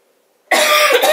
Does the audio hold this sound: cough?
yes